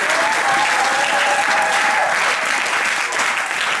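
A church congregation claps together in loud, dense, sustained applause that fills the room from start to finish, with no talk.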